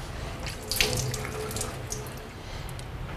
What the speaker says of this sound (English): I try and rinse them out and get them as clean as possible